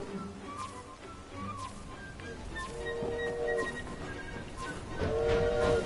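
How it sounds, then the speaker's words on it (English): Train rolling along the track in Assassin's Creed Syndicate, a steady rumble with metallic tonal squeals rising near the middle and louder toward the end, with no voices over it. "Right, we've managed to get him out of the way of the train at least."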